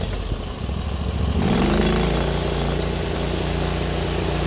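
An old 4HP diesel engine, running on two cylinders after a cold start, idles with a loud, steady low chug. Partway through it settles into a fuller, even running tone.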